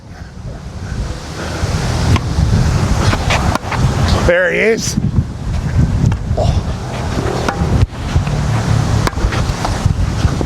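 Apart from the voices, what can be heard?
wind blowing on an outdoor field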